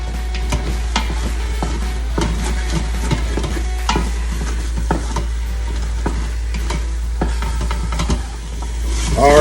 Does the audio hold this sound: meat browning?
yes